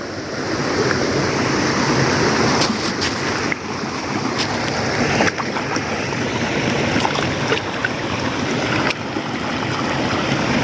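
Clear stream flowing beside a newly found waterfall in a rocky hillside area, a steady, loud, broadband rush of water continuing without break, with no voices.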